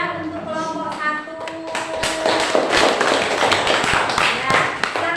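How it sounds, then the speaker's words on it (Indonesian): A classroom of students applauds after a group presentation, scattered claps building into sustained, dense clapping close by with some talk mixed in. "kita beri tepuk tangan ya untuk kelompok 1"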